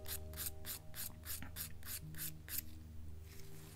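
A nail file drawn with light pressure across an acrylic nail tip to blend it, giving about nine quick, evenly spaced rasping strokes up close before the filing stops over a steady low background hum.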